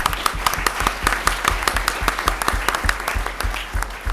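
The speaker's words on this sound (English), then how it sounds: "You all deserve a round of applause for showing up." Audience applause at a university minimum wage debate at Pacific Lutheran University, with crisp individual claps in a quick steady rhythm, close and fairly loud throughout.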